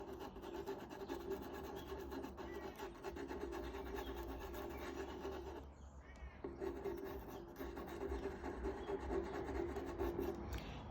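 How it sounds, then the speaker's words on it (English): Soft pastel rubbed onto paper while drawing a French bulldog's ear, a close, continuous dry scratching rasp that runs almost without pause, easing off briefly midway before resuming. "So I'm just going to rub a little bit of this in."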